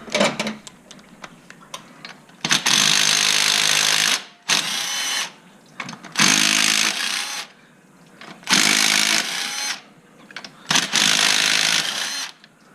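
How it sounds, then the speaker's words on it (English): A cordless impact wrench loosens bolts on a Chevy 4.3 V6 intake in an S10/Sonoma, firing in five loud rattling bursts of a second or two each, separated by brief pauses and small clicks. "See if this cordless impact works."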